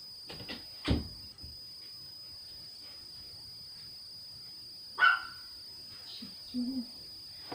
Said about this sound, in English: I close the door and she comes to the door to bark.